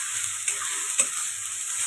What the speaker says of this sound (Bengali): আমি দিয়ে দেবো বেটে রাখা পটল আর কাঁচা লঙ্কা।